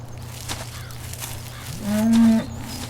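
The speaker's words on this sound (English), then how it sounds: "Let's go ahead and say hello to our cows." A red and white cow in the Farming Simulator 2017 video game lets out a single clear, fairly loud moo lasting about half a second, over a steady low background hum.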